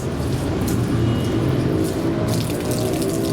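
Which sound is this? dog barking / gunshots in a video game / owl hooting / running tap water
running tap water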